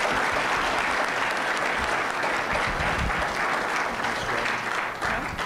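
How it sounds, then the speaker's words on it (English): A leadership forum audience applauds in a continuous, even wash of claps that holds steady for several seconds with no talking over it. "let's give these guys a round of applause"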